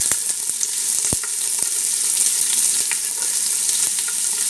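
Onion tempering in ghee with mustard seeds and urad dal, a steady bright sizzle and frying hiss running the whole time, with a few sharp pops and crackles, close and loud, no voices.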